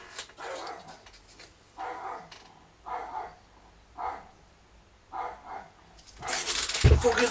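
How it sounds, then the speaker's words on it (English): Outdoors, a dog gives a series of sharp barks at roughly one-second intervals, somewhat distant and moderate in level, followed by a louder burst of noise at the end. "is my dog out there?"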